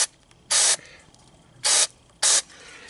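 Three short, loud hissing bursts of starting fluid mixed with upper cylinder lubricant sprayed from an aerosol can into a Ryobi inverter generator, each burst about a quarter second long and separated by brief pauses.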